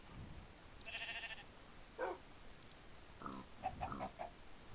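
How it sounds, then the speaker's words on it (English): Minecraft pig grunts and oinks, with a few separate short squealing calls spread across several seconds, fairly faint against a quiet background with no talking. "Did I not name the pig yet?"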